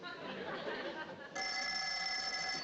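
A telephone rings in a sitcom scene, a steady electric bell that cuts in partway through over faint room noise.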